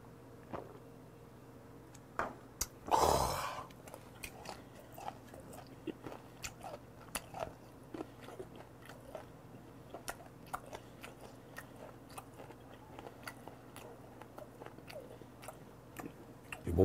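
Fermented skate (hongeo) being chewed up close, one sharp loud bite early on followed by a long stretch of faint, steady wet chewing clicks.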